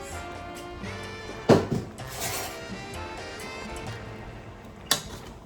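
A spoon stirs Boricua-style sancocho, a Caribbean meat and vegetable stew, in a pot, producing two sharp metallic clanks against the pot amid quieter scraping and shuffling sounds nearby.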